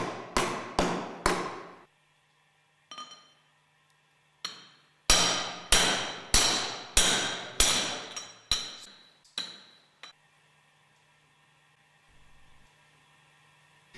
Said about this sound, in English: Carefully drive the groove ball bearing with a suitable pipe up to the distance bush